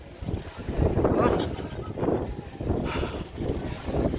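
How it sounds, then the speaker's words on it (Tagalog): Strong wind buffets the microphone high on a steep hillside at a pilgrimage site in Batangas, a continuous rumbling roar that swells and eases in gusts, with no voices. "Malakas ang hangin sa taas."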